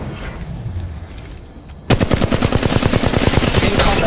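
Rapid automatic gunfire from a machine gun in the Apex Legends battle royale game, bursting in loud and close after a quiet stretch, then hammering in a fast, steady rhythm of sharp shots.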